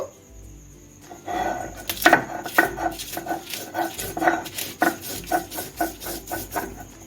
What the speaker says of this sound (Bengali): দিয়ে দেব নারকেল একসঙ্গে বেটে নেব